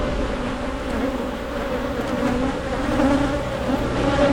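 Honey bees swarm around an open, honey-producing colony during a hive inspection, a dense, steady close buzz that swells slightly and carries on with no talking.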